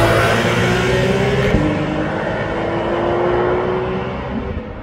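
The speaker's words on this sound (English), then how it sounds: "The engine also sounds to be turbocharged." A turbocharged Porsche 911 GT2 RS engine roars loudly, holding a high steady pitch with a brief shift midway, then fades slightly as it moves off.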